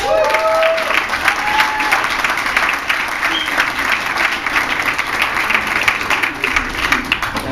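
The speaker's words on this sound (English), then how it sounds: "How about a hand for Mr. Alan Jones?" Loud, sustained applause from a crowd, dense clapping filling the room with a few faint voices and cheers mixed in.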